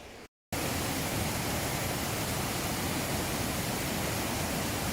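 Waterfall at the Montvicq water intake: a loud, constant broadband rush of falling water that fills the whole clip after a brief quiet gap at the start, with no voices.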